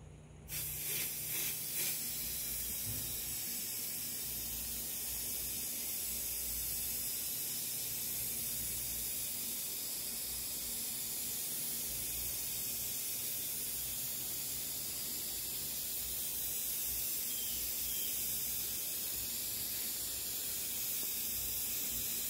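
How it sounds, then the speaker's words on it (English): Aerosol spray can hissing steadily and close as it coats the back of a painting, one long continuous spray lasting the whole time after a brief start. "I always spray off to the side to start, and then just go in slow"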